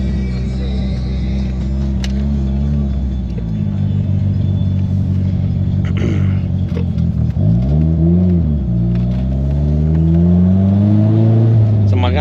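A manual-transmission car at a Cars & Coffee meet pulls away and accelerates, its close engine rumble rising and falling through gear changes while people talk over it.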